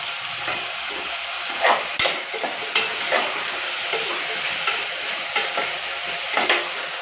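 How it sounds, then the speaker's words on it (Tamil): Radish and potato sautéing in a pan, a steady close sizzle with regular scraping strokes of a spatula stirring the pieces. "முள்ளங்கி நல்லா வதக்கணும். அதோட உருளைக்கிழங்கையும் போட்டுக்கலாம்."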